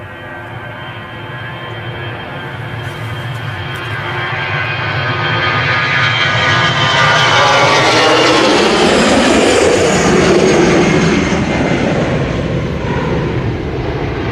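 An EasyJet Airbus jet departs Manchester Airport for Hamburg, its engine roar swelling steadily from a distant rumble to a loud broad-band blast and holding, with no talk.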